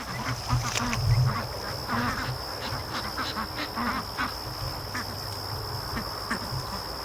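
Ducks quacking down at a swamp, repeated faint-to-moderate quacks scattered over a constant high background hum, heard from a short distance with no talk.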